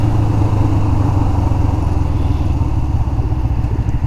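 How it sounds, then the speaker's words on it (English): A Kawasaki Ninja 500 motorcycle engine, revved hard during a wheelie with a warmed-up tire, roars loud and close as one steady, continuous growl with no talking. "another wheelie now that the tire's a little warmed up"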